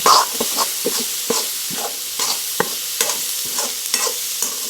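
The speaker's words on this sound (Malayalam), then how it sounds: "ഉള്ളിയും തക്കാളിയും തേങ്ങയും കരിയേപ്പിലൊക്കെ ഇട്ട് മിക്സ് ആക്കിയാണ്ട് ചൂടാക്കാൻ വെച്ചിട്ടുണ്ട്" Onion, tomato, grated coconut and curry leaves heat together in a pan for chutney, stirred with a spoon in repeated scraping strokes over a soft, continuous sizzle.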